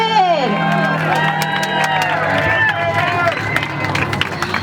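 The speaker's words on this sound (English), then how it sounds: "Wow, let's give a round of applause for David" Rally crowd at an OC for LIFE event in Orange, California cheers, whoops and claps for David, a loud continuous roar of many voices with scattered shouts.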